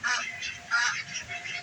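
Ducks kept with chickens in a covered winter run honk and quack in repeated close, fairly loud bursts, overlapping one another.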